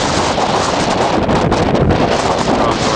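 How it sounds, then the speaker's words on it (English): Strong northwest wind gusting at 40 to 55 miles per hour across an exposed mountain ridge on the Long Trail near Camel's Hump, a loud, continuous roar with heavy buffeting against the microphone throughout. "Got sustained winds of 40, 45 miles an hour right now."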